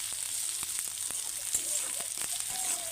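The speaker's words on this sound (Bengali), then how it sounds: "আর এই যে পেঁয়াজ লঙ্কা ভেজে নিচ্ছি" Onions and green chillies frying in a pan, a soft continuous sizzle with faint clinks of a utensil against the pan, heard fairly quietly and close.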